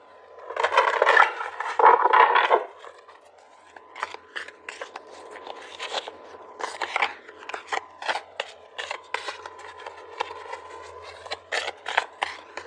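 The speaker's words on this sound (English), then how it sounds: "These are so hard to shuffle the other way, that's why I'm doing it like this" Stiff tarot cards are shuffled by hand at close range, beginning with a louder dense scraping burst and then continuing as a series of light sliding and flicking sounds, with no speech.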